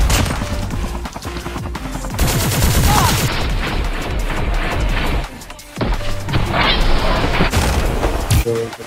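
Rapid shotgun blasts in a video game firefight, loud and crashing and repeated in dense bursts, with voices talking over the shots throughout.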